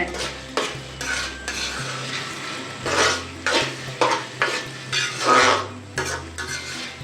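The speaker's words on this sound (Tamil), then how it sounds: "நல்லா கிளறி விட்டுட்டே இருங்க" Bread halwa stirred in a pan with a metal spoon, producing repeated scraping and clanking strokes in uneven bursts with a faint sizzle underneath, alongside low background music and no talk.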